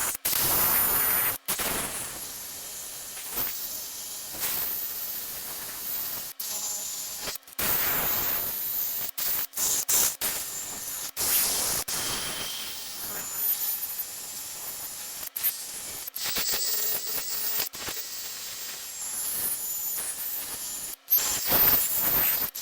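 A bit driver spins a hub cleaning tool against the front wheel hub of a Jeep Renegade during a brake job: harsh, hissing grinding in long bursts that start and stop abruptly, loud and close, with no speech.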